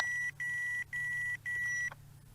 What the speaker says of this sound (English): It'll continue to beep, so that means you are trimming continuously to the right.